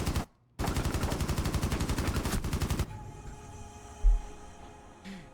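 A long, steady burst of rapid automatic gunfire in a first-person shooter video game, loud and close, sprayed at a wall. It stops abruptly into a quiet hum with a single low thud.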